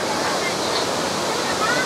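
The waterfall at Furong ancient town roars as a steady, dense rush of falling water heard from nearby, with a crowd murmuring faintly beneath it.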